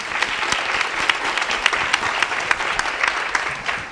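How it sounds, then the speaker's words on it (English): An audience at a university leadership forum on diversity and inclusion claps steadily, a dense, moderately loud burst of applause lasting several seconds with no voices over it. "So if we could get a round of applause for that"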